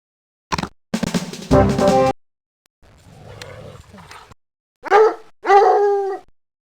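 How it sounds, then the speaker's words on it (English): A Black and Tan Coonhound bays in a few deep, loud bursts, with short gaps of quiet between them and a hoarse, roaring note in the middle. "Black and Tan Coonhound."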